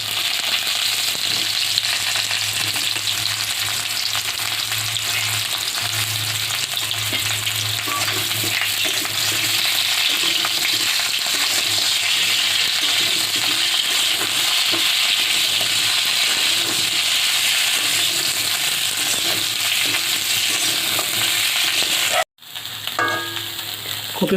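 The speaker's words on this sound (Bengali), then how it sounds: "কপিগুলো আলুগুলো ভালো করে নেড়ে নেওয়া হবে।" Cauliflower and potatoes fry in oil left from frying eggplant, giving a dense, steady close sizzle with intermittent stirring scrapes, broken by a brief cut near the end.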